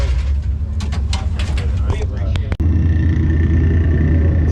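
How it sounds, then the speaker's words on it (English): Ford Mustangs doing burnouts at a Mustang Week car meet in Texas produce a constant loud engine rumble with squealing tyre bursts, heard amid crowd noise and talking. "Tons of Mustangs. They're doing burnouts."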